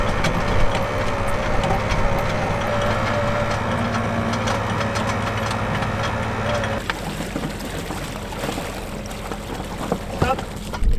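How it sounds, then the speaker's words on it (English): Hydraulic anchor winch motor hauling up the anchor on a traditional wooden sailboat, a steady mechanical whine and hum with clanking that cuts off partway, followed by rattling and knocks, close and loud amid boat and water noise. "this is hydraulic powered motor that helps us to get the anchor up"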